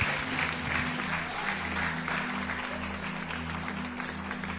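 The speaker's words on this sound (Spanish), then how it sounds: "Aplaude al Dios que vive, aplaude al Dios que vive." A church congregation applauding, with sustained clapping from many people over a low hum, fairly steady and somewhat distant.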